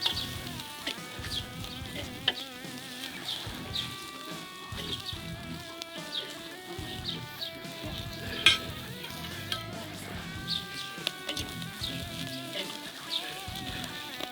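Lamb chops sizzling steadily on a grill at a souvlaki stand, a continuous dense crackle and hiss with occasional sharp pops and faint clinks, no talking.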